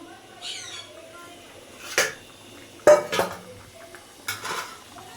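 Metal pot lid lifted off a simmering pot of fish curry on the stove, giving a couple of sharp clanks and clatters of metal cookware, close and moderately loud, with quieter kitchen rattles between.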